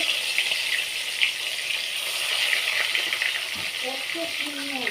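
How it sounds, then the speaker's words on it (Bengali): Fish fry in hot oil in a wok, a continuous bright sizzling hiss that holds steady throughout, with a faint voice briefly near the end. "মাছগুলো আমি আগে ভেজে নিচ্ছি। কড়াই তেল গরম হয়ে গেছে।"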